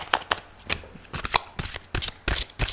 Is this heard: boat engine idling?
no